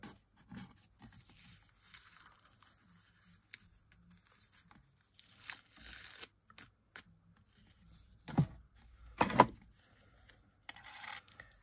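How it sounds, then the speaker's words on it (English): Intermittent peeling and tearing of tape, quiet rustles building to a few louder rips near the end, close and without talk. "Let's take the tape off."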